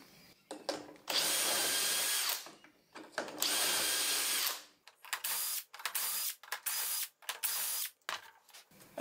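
Shelf pin holes are bored into a melamine cabinet side with a power drill and a special bit through a drill guide, in several short whirring bursts separated by pauses, close and loud.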